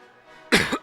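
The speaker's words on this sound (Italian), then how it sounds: "Mi è venuto un po' di tosse" A single close cough, two quick harsh bursts, following a faint low hum in an otherwise quiet room.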